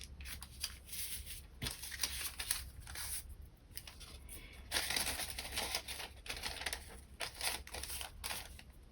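A paper map is folded by hand, giving crisp, close rustling and creasing crackles in irregular bursts throughout.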